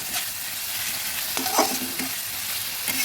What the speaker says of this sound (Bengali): মশলাগুলো ভালোভাবে ভেজে নিচ্ছি